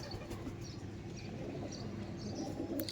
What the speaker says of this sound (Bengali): আর এটা হচ্ছে মাদি পায়রা।